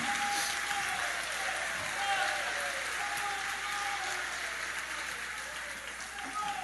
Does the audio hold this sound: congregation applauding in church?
yes